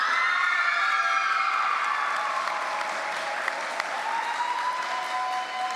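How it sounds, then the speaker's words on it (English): Applause from the audience at an inter-primary schools debating championship runs steadily throughout, loud and continuous, with light cheering from children and faint tonal ringing in the hall. "I want everyone to just give them a big round of applause"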